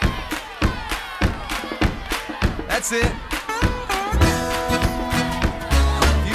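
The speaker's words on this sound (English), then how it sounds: "And let's clap together." Group of children and adults clapping in rhythm at a church Vacation Bible School song session, steady repeated claps under music and singing voices.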